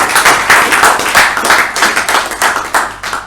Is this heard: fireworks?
no